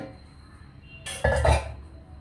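A metal cooking pot clanks and clatters briefly as it is set down on a stove, a short burst of kitchen noise against a quiet background.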